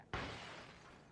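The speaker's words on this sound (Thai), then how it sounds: "กูได้ยินเสียงกระจกแตก" Glass shatters in the battle royale game PUBG, a single sudden loud crash followed by a fading hiss of falling shards.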